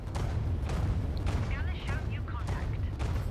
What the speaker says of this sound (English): that flagship is actually firing its missiles off in my general direction